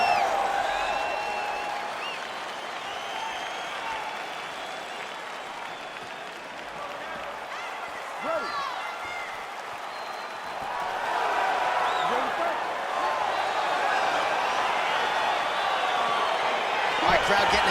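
A roaring arena crowd in the UFC 4 fighting video game cheers steadily as a fight between Bruce Lee and Justin Gaethje begins, swelling louder partway through, with a commentator talking over it.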